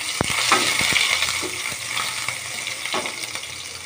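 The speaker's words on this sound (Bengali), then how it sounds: "পেঁয়াজ কুচি দিয়ে দিলাম।" Chopped onion frying in a hot pan, a steady close sizzle with a few sharp clinks and stirring scrapes, no voices.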